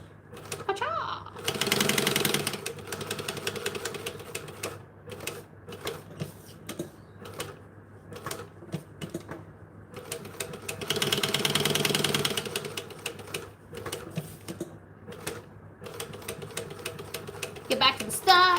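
A domestic sewing machine back stitching fabric, with bursts of fast close mechanical whirring broken by pauses, clicks and handling noises, and occasional talking in between.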